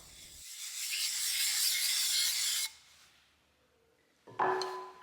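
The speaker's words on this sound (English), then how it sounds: "Here I've flipped the knife over to the flat side and I'm just doing a few passes" A draw knife's flat back side rubbed across a sharpening stone, a steady loud rasping stroke of a couple of seconds, then a quiet pause before a second, shorter scraping pass begins.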